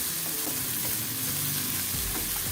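Cabbage and vegetables are stirred and sautéed in a pan, a steady close sizzle with scraping spatula strokes throughout and no talking.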